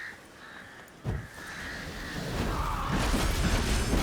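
Crows caw in The Witcher 3 game, a few harsh calls rising over a dark rumbling ambience that swells louder toward the end, with a sudden thud about a second in.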